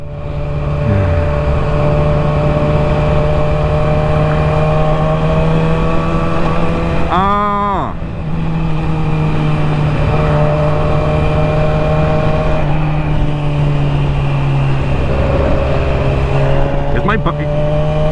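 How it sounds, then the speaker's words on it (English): A motorcycle engine runs steadily throughout a ride, with a constant low drone and a brief rising whine from a passing vehicle midway; the sound stays loud and continuous with no speech over it. "Is this bike supposed to sound like this?"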